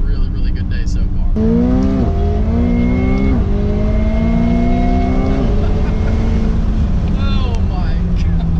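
A McLaren 720S sports car drives fast on a tight, technical road. The loud engine note rises in strong sweeps and drops between gear changes, and a voice is briefly heard over it.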